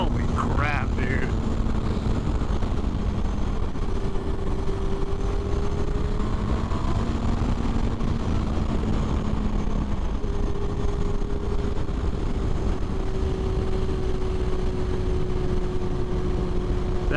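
A 2006 Yamaha FZ6 motorcycle engine drones steadily while riding, its pitch shifting gently through gear changes under constant wind roar, with a rider talking over it.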